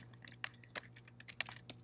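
Quick bursts of keystrokes on a computer keyboard, about a dozen irregular clicks over a couple of seconds, close and fairly faint with no talking.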